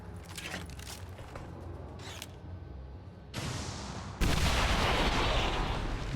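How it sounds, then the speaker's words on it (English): A rocket blast in the XCOM 2 video game comes as two sudden heavy bursts of noise, one after another. The second is louder and stays as a roaring, crackling rumble that fills the rest of the moment. "At least we get to enjoy this delightful rocket again."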